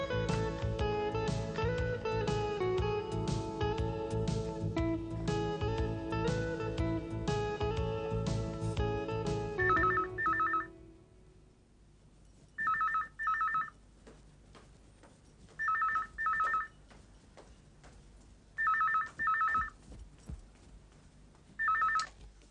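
A telephone rings in repeated double trills separated by pauses, loud and close, after a stretch of music fades out.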